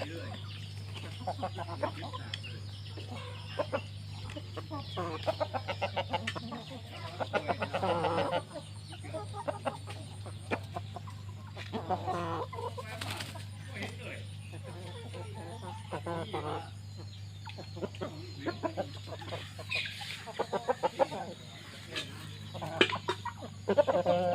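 Chickens clucking on and off around a farmyard in rainy weather, soft scattered clucks and squawks over a steady low hum, with occasional voices nearby.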